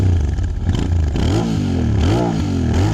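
A motorcycle engine revs repeatedly, its pitch sweeping up and falling back in short bursts over a steady, loud idle.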